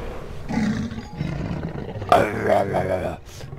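A sabre-toothed smilodon in the mobile game Jurassic World Alive gives a loud, close roar with a throaty growl, while someone talks over parts of it.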